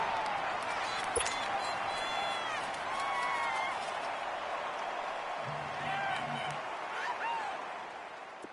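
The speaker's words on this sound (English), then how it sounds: "the crowd getting into it as we come up on a big 3rd down" Crowd noise from a stadium audience in an American football video game on PS4 swells steadily before a big third down, a continuous roar with faint cheers under a commentator's voice.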